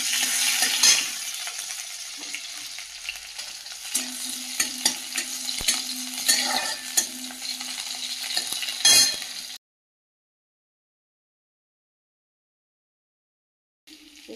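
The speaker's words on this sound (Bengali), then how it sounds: "আর শাক ভাজাটা এদিকে চাপিয়ে দিয়েছি, তেলে দিয়ে দিয়েছি একটা শুকনো লঙ্কা আর একটা কাঁচা লঙ্কা" Greens fry in hot oil with a dried chili and a green chili, sizzling steadily while a utensil stirs and clinks now and then; the sizzle cuts off abruptly partway through, leaving silence.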